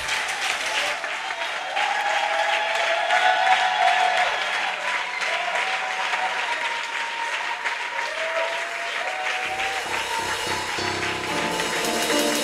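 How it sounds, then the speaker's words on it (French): A church congregation at a Sunday service applauds in acclamation, a steady wash of clapping held at even strength for the whole stretch, with faint voices and a little organ-like tone rising underneath near the end. "je veux que nous donnions une offrande d'acclamation à Dieu pour notre Père"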